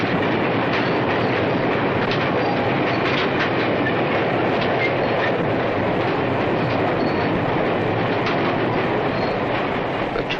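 A New York Central Railroad train rolls steadily along the tracks, a continuous loud rumble with rhythmic clickety-clack from the wheels and occasional metallic squeals, close by and without talk.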